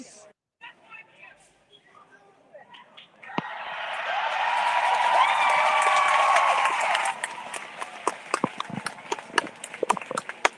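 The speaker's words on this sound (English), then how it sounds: "everyone's clapping anyway" A crowd at a protest claps together in a sustained burst of applause that swells and then fades, heard from within the gathering, with scattered sharp claps and talking before and after.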